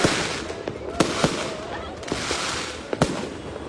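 Firecrackers and fireworks crackle and pop on New Year's Eve in Laguna, a dense continuous hiss of distant bursts broken by several sharper, nearer bangs, with voices faintly present.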